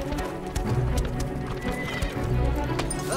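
A horse passes close by on a road, its hooves clip-clopping in a steady rhythm with a short whinny, loud and continuous, with faint voices in the background.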